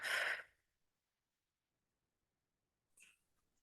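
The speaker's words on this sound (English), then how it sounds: "we shall end by just taking a couple of nice deep breaths in and out" Two slow breaths, a long airy exhale at the start and a quieter breath about three seconds later, close and soft with silence in between, during a relaxation exercise.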